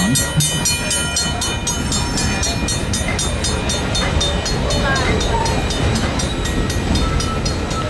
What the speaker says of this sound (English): The upside to the Y is you get to ride while we turn the train around.